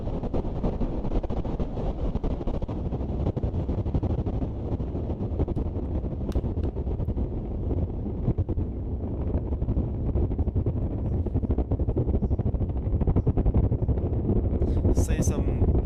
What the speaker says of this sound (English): Booster engine cut off. Ship ignition.